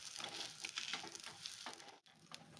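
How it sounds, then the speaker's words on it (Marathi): A vegetable sandwich filling is pressed down and toasted in a pan, giving a faint, steady crackling sizzle with soft crunchy pressing sounds and a brief pause near the end. "हे दाबून दाबून ही भाजी पण शेकून घेते"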